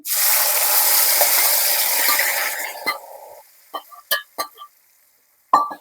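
Curry leaves and chilies hit hot oil for cashew paneer curry, bursting into a loud, crackling sizzle that dies down after about three seconds, followed by scattered metallic clinks and scrapes of stirring.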